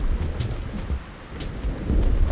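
Steady rain falls in the Animal Crossing video game world, a soft continuous wash with low rumbling swells and a few brighter spatter bursts, fairly even throughout.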